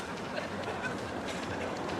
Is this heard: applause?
no